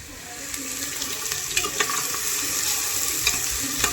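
Cumin and mustard seeds with curry leaves sputter and sizzle in hot oil, a continuous close crackle with small pops and occasional spoon scrapes.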